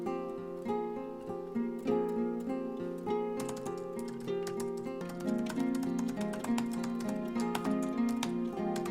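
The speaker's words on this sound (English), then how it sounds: "You're killing your laptop by typing so hard." Rapid, forceful clacking of keys on a laptop keyboard, hard dense keystrokes in an uneven rhythm, close and continuous under a light musical background.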